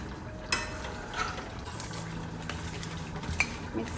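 A utensil stirs and scrapes spices through cut potatoes and eggplant in a pot, giving soft scraping and a few sharp clinks against the metal, quiet and close.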